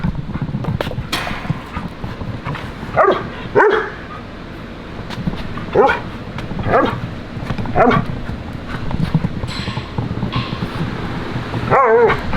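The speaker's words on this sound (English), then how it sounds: "Just dogs everywhere" Several dogs bark repeatedly in short bursts against a constant mechanical hum and background noise, with some barks close and loud and others farther off.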